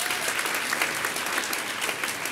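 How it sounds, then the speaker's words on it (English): An audience at a nursing pinning ceremony applauds clinical and lab instructors, a dense, even wash of many hands clapping at moderate distance, sustained without a break. "So let's also give them a round of applause."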